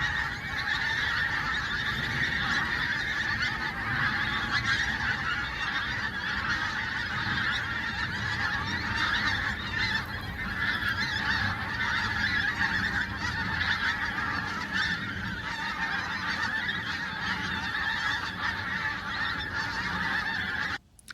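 Flock of pink-footed geese on the North Norfolk coastal marshes, honking continuously and densely, many overlapping calls close and loud throughout.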